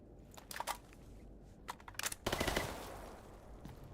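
Gunshots crack toward the player in the video game STALKER: Gamma, scattered sharp single reports and short bursts at varying distances, with a brief rattling volley in the middle, no talking.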